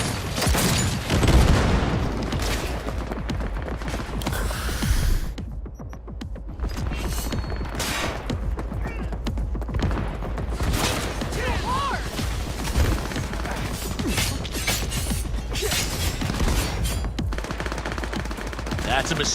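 Heavy shootout gunfire in Cyberpunk 2077, with loud continuous automatic bursts, booms and clattering shots filling the mix, a brief lull near the middle, and shouted voices mixed in.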